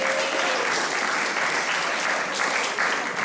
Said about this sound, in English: Can I get a big round of applause for my mama?